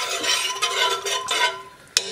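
A spoon stirs briskly around a pot of soup in a steady scraping swirl, ending with a sharp metallic clink.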